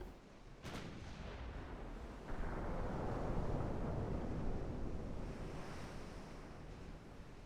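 Naval guns fire at approaching destroyers during a battle in Ultimate Admiral Dreadnoughts: a sharp early boom followed by a steady, heavy roar of sea, wind and distant gunfire that swells midway and holds.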